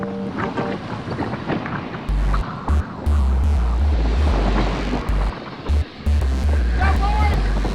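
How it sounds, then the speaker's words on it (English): Strong wind buffets the microphone during a group bicycle ride on open country roads near Shiro, Texas, a low rumbling roar in gusts that swells loud and nearly steady over the second half, with faint voices underneath. "Listen to the wind."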